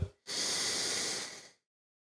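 A single long, forceful breath drawn through the nose during a back exercise for working with the arms raised, loud and close, a steady airy rush lasting over a second before stopping into silence.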